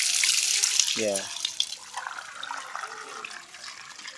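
Water gushing from the waste valve of a hydraulic ram pump, a loud splashing rush that eases off toward the end, with a brief voice near the start.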